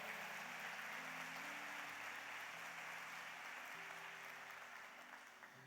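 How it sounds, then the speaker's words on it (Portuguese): A church congregation applauds strongly in a continuous wash of clapping that is quite faint and distant, with a faint steady tone underneath, fading slightly toward the end. "Se você quer, aplauda Ele bem forte, aleluia."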